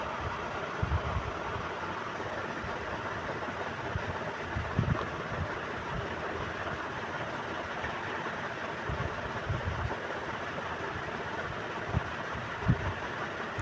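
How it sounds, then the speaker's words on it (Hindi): The 1-inch folded hem of a homemade girls' top is stitched, with a faint, steady mechanical whirr and light rhythmic thumps running continuously and no voices. "अब हम अपने टॉप पर नीचे की साइड से सिलाई करेंगे।"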